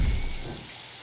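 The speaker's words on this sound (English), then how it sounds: "And it's raining." Rain falls in the theme-park game RollerCoaster Tycoon 3, a steady broadband hiss with a low rumble that eases slightly over the second, with no talking.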